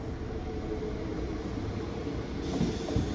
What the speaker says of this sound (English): here comes my train to Droitwich